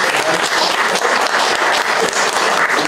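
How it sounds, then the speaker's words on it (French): Sustained audience applause fills the room at a conference or panel discussion, dense steady clapping from many hands, loud and close throughout with no talk over it. "On va continuer d'applaudir"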